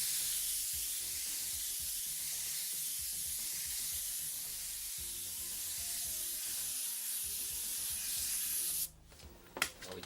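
An airbrush sprays a medium coat of light reddish brown paint in a steady, close, even hiss that holds for most of the stretch before stopping abruptly, followed by a few faint handling sounds.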